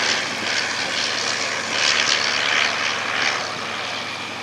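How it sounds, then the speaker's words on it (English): A vintage aircraft fitted with a radial engine, flying at the Shuttleworth Heritage Airshow, gives a loud, continuous broadband drone that swells and fades slightly as it passes, with no voices. "fitted with a radial engine in 1933"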